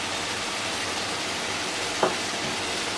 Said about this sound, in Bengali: এবার এর মধ্যে আমি চিংড়ি দিয়ে দিচ্ছি।